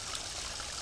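Stream water on a hillside forest trail flows steadily, a close, continuous broadband rush and trickle with no voices.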